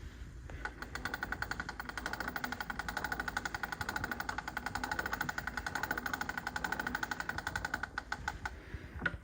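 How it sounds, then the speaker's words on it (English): A 1913 Victrola gramophone is cranked by hand, giving a fast, steady ratcheting clatter of rapid regular clicks that runs close and even for several seconds. "This is a Victrola 1913 model. Like I said, no power. It's actually going to crank up."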